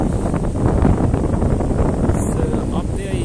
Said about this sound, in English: It's a little bit windy but beautiful weather.